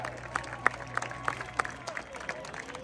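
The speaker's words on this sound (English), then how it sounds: "another round of applause for the Queen Creek High School Marching Band" Scattered applause from an audience for the Queen Creek High School Marching Band at a band invitational, faint and distant, with a few sharper claps standing out over a steady background hum.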